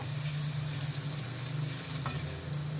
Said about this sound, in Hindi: तमाम मसालों की हम अच्छी से भुनाई कर लेंगे।